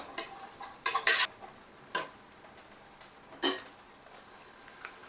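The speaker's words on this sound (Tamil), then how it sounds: "நல்லா கலந்து விட்டுக்கோங்க இந்த பட்டாணியில் இந்த எண்ணெயும் மசாலாவும் நல்லா கோட் ஆகட்டும்" A spoon stirs peas with oil and masala in a pan for jeera peas pulao, giving a few sharp scraping clicks and taps, a quick cluster early then scattered single knocks against a quiet background.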